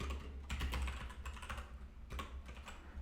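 Code is typed on a computer keyboard, heard as rapid, close clicking keystrokes in quick irregular runs, with a brief lull just before the two-second mark and no talking.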